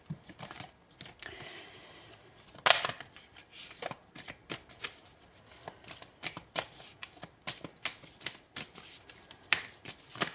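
Tarot cards being shuffled at close range, a steady run of crisp riffling slaps and flutters with brief pauses between bursts, no talking.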